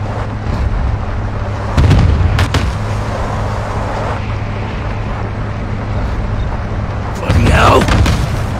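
An APC fires during a video game campaign battle, with heavy bursts of gunfire and blasts breaking through a loud, constant combat roar, one burst near the start and another near the end.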